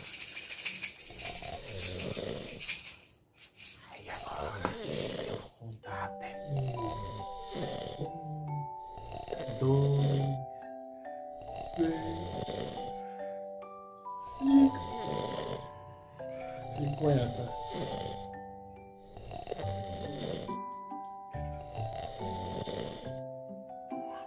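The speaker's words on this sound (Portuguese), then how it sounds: "Que bonitinha, tá roncando." Rhythmic snoring from a sleeping person in an ASMR setting, repeating breaths in a slow cycle, close and fairly loud, with soft whispered talk around it.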